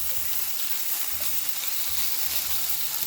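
Chicken for a fajita bowl sizzles steadily in a hot pan, a bright continuous hiss with low intermittent bubbling pulses, close and even throughout without any voices.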